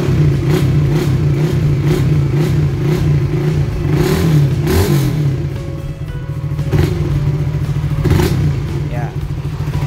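Honda Supra GTR fuel-injected motorcycle engine idling steadily and close, with throttle blips swelling the revs midway, someone talking over it.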